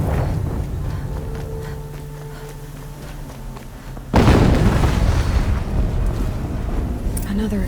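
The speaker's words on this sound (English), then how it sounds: "An explosion." Explosion in the video game Horizon Zero Dawn Remastered, a sudden loud boom halfway through that cuts over quieter game ambience and footsteps, followed by a sustained rumbling roar.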